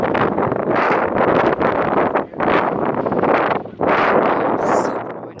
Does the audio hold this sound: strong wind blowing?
yes